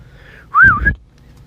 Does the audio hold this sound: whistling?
yes